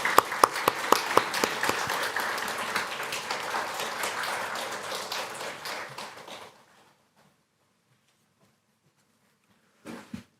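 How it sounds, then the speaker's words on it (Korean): An audience at a Sunday church service claps to welcome a speaker, dense applause that gradually thins and stops after about six seconds, followed by near silence and a brief sound at the end. "박수로 맞이하겠습니다"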